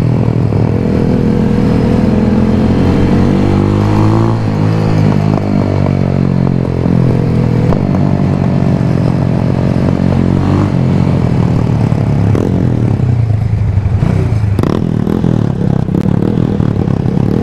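A big, heavy motorcycle on a road trip to a beach in St. Mary, Jamaica revs and accelerates at low speed, a loud continuous engine drone close by with rising and falling pitch and some clatter.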